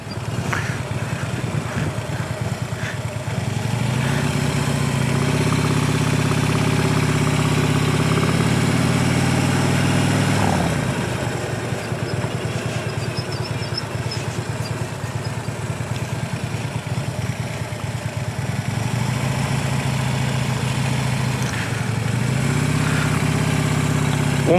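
A motorcycle running a cone drill for new riders, its engine loud and close, revving up, holding steady, then dropping off twice as it brakes and swerves.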